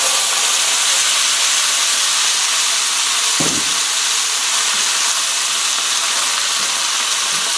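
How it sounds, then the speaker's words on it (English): Kettle water poured into a hot pan of noodles for crispy chilli beef, a loud continuous steamy hiss and sizzle with a brief splash partway through. "just add a little bit of water from the kettle"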